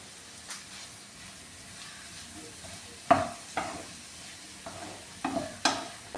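Stirring carrot and bean mezhukkupuratti in a pan, with several distinct scraping and clinking strokes of a spoon against the pan spread out over a faint sizzling background.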